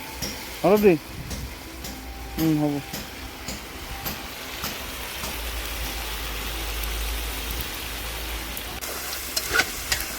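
Masalas and meat stirred together in a pot over a village cooking fire, with a steady frying hiss, a few scraping utensil strikes near the start and a low engine-like rumble beneath, under occasional chatter.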